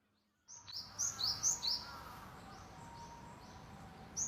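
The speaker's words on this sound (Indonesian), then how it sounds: "Kicauan Cinerius tit lembut tapi cepat, terdengar seperti TSI tik-tik berulang." A cinereous tit gives quick, high, thin chirps in a rapid series, fairly close, over a soft outdoor hiss.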